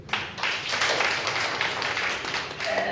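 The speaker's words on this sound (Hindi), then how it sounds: "यीशु के लिए ताली बजाइए।" A Christian congregation at worship claps for Jesus, many hands producing a steady, fairly even patter of clapping that fills the room at moderate volume.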